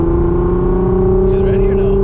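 A Nissan 350Z idles while warming up, a steady low engine drone with a constant hum, loud and close, with faint voices in the background.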